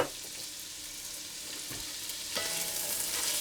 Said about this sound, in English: fry off the onions and the celery